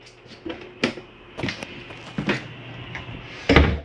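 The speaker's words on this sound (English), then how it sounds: "Shower, you want to make sure this shower door is snapped open for travel." Shower door in a Flagstaff 524BBS travel trailer being snapped open, a series of sharp plastic clicks and knocks with a final louder snap, close by and without talk.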